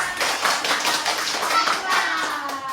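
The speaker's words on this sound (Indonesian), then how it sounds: "Tepuk tangan" Children in a classroom clap their hands together, a brisk burst of overlapping claps with rhythmic taps, close and lively, with young voices faintly mixed in.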